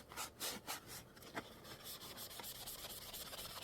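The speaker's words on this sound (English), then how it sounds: "Believe it or not, guys, this is sandpaper." Sandpaper rubbed back and forth on wood at a workbench, a close, steady scratchy rasp with a few louder strokes at the start settling into continuous sanding.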